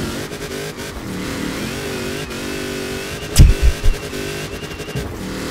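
A Jeep CJ5 Renegade with a 7-litre V8 tuned past 1300 hp in Forza Horizon 4, droning loudly at steady high revs, then a short burst of heavy, bassy revving near the end, with no talk over it.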